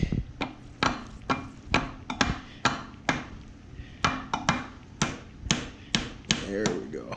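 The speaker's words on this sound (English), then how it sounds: "I'm gonna have to get a hammer out and tap that thing." A hammer taps repeatedly on a stuck part of an RMK 800 snowmobile engine, sharp metallic strikes in a steady rhythm about twice per second, close and loud, with a few irregular doubled hits.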